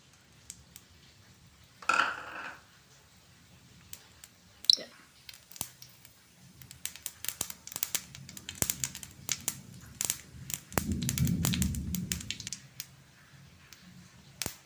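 Mustard seeds pop in hot oil, sharp scattered crackles and snaps that grow busier and denser after a quiet start, with a brief voice heard early on.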